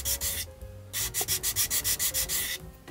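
A flat seam on a plastic 1/60 scale Gundam model kit is sanded with 220-grit sandpaper. Close, rhythmic rasping comes in quick back-and-forth strokes, with brief pauses between the bursts and no voices.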